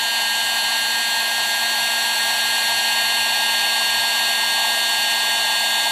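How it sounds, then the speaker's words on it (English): A heat gun runs steadily and loudly, melting wax into birdshot pellets for wax slug shotgun shells, its continuous blowing roar unbroken with no talk. "I just turn my heat gun on and I just melt some wax into those BBs"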